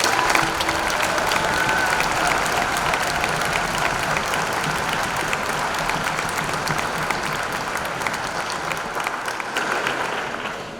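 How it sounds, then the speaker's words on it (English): An audience at a high school commencement ceremony gives a sustained, even round of applause with a few faint cheers, filling the hall for several seconds before gently tapering. "join me in giving Mr. Dean Johnson a special round of applause"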